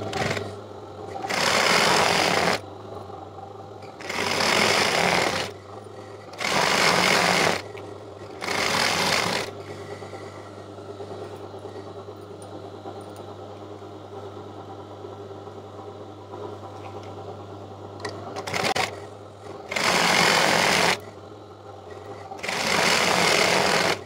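Sewing machine stitching a Punjabi dress top with a square neck, running in several loud bursts of steady whirring separated by quieter pauses with a low hum, no talking.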